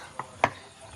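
Two quick knife chops through thin-cut lime on a board as pickle is prepared, close, dry and crisp, with nothing else around them.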